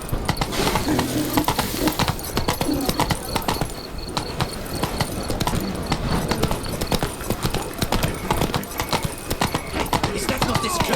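Roach, the horse in The Witcher 3: Blood and Wine, gallops in a fast, continuous, loud drumming of hooves, with voices talking over it throughout.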